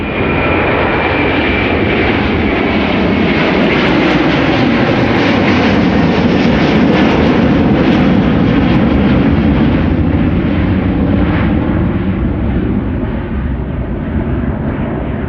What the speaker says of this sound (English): Delta Airlines Flight 73 to Atlanta, Georgia. Another A330-300